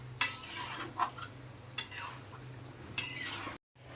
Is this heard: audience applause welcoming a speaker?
no